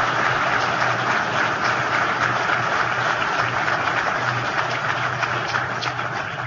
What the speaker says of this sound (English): Ohio Oil and Gas Association, give yourselves a round of applause.